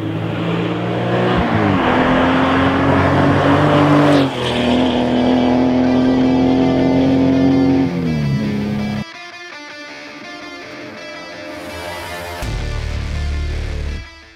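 A powerful hot-rodded 1990s Porsche 964 engine roars loudly and steadily, its pitch climbing and dropping through gear shifts, then settling into a lower drone.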